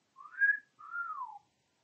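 A man whistles through his teeth in two clear, sliding tones, the first rising and the second falling, close and alone in otherwise silent air.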